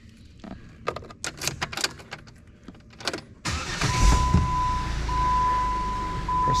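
Jeep JK Wrangler Unlimited engine cranks and starts after a run of clicks and clunks, then settles into a steady, loud idle with a thin electronic tone running alongside.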